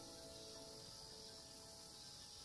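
A steady, dense insect drone of cicadas, high-pitched and continuous, holding at an even, moderately faint level throughout with no voices.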